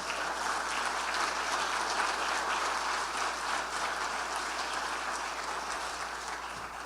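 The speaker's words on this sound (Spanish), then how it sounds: "dale un aplauso fuerte a Cristo." A church congregation claps for Christ during a sermon, sustained applause steady throughout at moderate distance, a dense wash of hand claps with no voices standing out.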